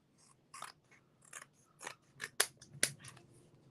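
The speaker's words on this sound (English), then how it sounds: "I'm going to just come in with my corner chomper and do that." A corner chomper punch rounding paper corners during a gift-crafting session, giving a handful of sharp, close snipping crunches with two especially crisp cuts near the end.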